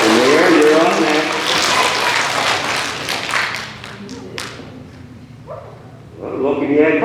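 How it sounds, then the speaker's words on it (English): A small group of pre-K children in a handwashing lesson claps briefly for a classmate, a short patter of scattered claps mixed with voices in the room. "But please give Elijah a round of applause"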